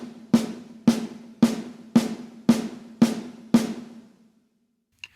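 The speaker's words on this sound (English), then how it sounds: "Now, the one that I picked out, which I just know is going to work, is the single paradiddle." Seven evenly spaced, sharp drum strokes with a resonant low tone, each ringing and decaying before the next, played as a single paradiddle rudiment, then silence with a faint click at the end.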